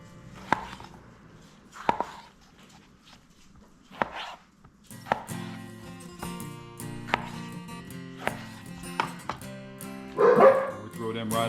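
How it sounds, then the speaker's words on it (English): Several dogs bark indoors in a kitchen in short, separated bursts, with knife chopping of venison and jalapeños on a board and someone talking over it. "My dogs are barking at somebody out there."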